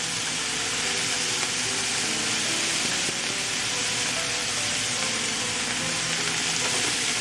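Onions and peppers with chili flakes fry in a pan with a steady, even sizzle, close and constant throughout with no break.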